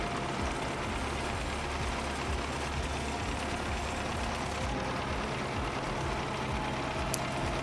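Tractor engine idling in Farming Simulator 15, a steady heavy low rumble that holds evenly and loud throughout, with no talking over it.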